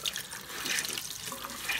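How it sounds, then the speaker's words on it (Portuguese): Running water from a tap rinsing soap off a homemade brush-cleaning board in a sink, a steady close hiss of flowing water with no talking. "tá enxaguando ela, sabe? Saindo todo o sabão."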